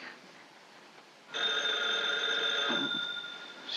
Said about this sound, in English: Oh, your phone's ringing. It's ringing there.